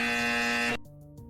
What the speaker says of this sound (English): Forgot to press my incorrect buzzer button.